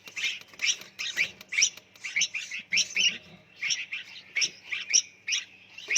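Baby birds chirp and cheep in a nursery box, a dense, continuous chorus of high, rapid calls from several nestlings close by, with no voices.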